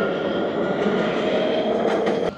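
A tram runs past at Mina station in Dubai, a loud steady rolling rumble with a faint high whine that cuts off abruptly near the end, and no talking.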